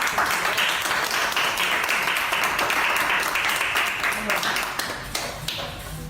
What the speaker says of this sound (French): Acclamons pour papa.